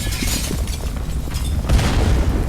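An explosion in the video game Roblox produces a loud, sustained booming roar that swells again partway through, dense and rumbling, with no talking.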